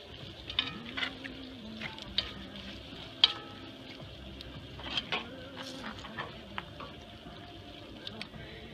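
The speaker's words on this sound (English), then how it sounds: "We're gonna caramelize that in as well." Pineapple caramelizing and simmering in a pan for an upside-down cake, giving a faint, soft sizzle with light clinks and stirring scrapes scattered throughout, heard close with no talking.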